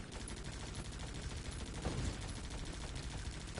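Machine gun fire in a video game, dense rapid bursts of gunfire running continuously like a fusillade, loud and close with a brief heavier swell midway.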